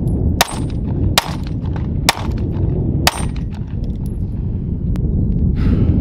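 An M&P Shield Plus pistol fires four sharp, loud shots at roughly one-second intervals, followed by a fainter crack and a brief metallic rattle.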